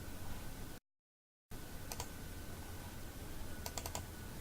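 Quick bursts of computer keyboard typing on a Windows PC, faint crisp key clicks in two short clusters, with a brief silent gap early on and a steady background hiss.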